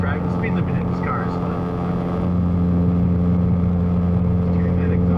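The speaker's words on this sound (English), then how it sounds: "Hearing that exhaust." A Ford Focus RS exhaust rumbles with a steady low drone and slight revving, close and loud, while people talk briefly over it.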